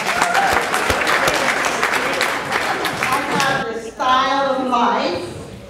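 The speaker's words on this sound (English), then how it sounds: "Everyone give yourself a round of applause." Energetic applause with cheering from the crowd at a Miami Beach mayoral debate, loud and continuous for several seconds before fading as a voice starts speaking over the tail.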